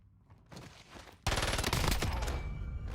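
Rapid automatic SMG fire from a video game match, a dense loud burst of shots starting partway through and continuing to the end, with quieter distant gunfire and game sounds before it.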